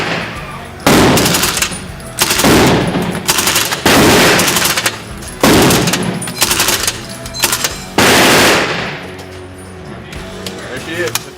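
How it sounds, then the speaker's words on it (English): A suppressed Sterling submachine gun fires on full auto at an outdoor shooting range in about seven rapid bursts. Each burst is a loud, close, clattering string of muffled shots, with short pauses between them. "she's probably gonna be one of the smoothest subguns you can shoot"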